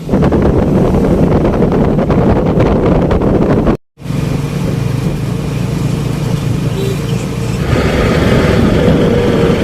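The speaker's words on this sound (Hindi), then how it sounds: "अभी इतनी ठंडी हवा चल रही है ना, इतनी ठंडी" Cold wind blusters steadily outdoors across the microphone, a loud continuous rushing with gusts, broken by a brief dropout midway.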